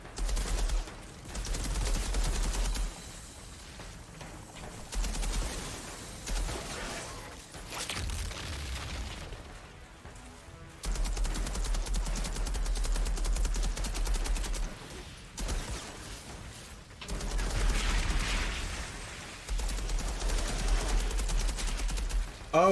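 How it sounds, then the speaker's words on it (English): Sustained gunfire from a gun in the video game Outriders comes in loud, dense bursts separated by short pauses, with occasional booming blasts mixed in. "Dude, this gun is just wrecking things."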